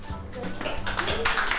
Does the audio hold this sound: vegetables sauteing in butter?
no